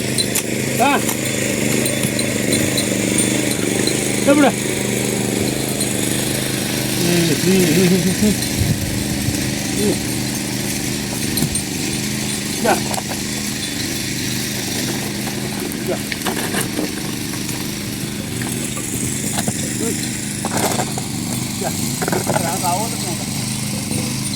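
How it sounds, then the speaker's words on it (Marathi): A loud tractor engine rumbles and chugs steadily throughout while plowing a field, with irregular mechanical clatter and bursts of revving over the drone. "मोठ्या आवाजात ट्रॅक्टरचा आवाज होऊन ट्रॅक्टर खततोय"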